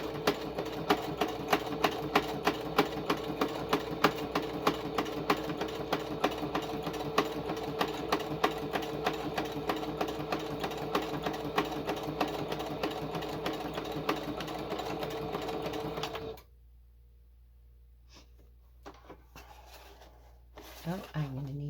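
Sewing machine stitching an envelope journal, a steady rapid clatter of stitches running for about sixteen seconds close up, then stopping, followed by faint handling sounds.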